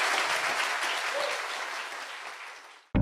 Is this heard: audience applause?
yes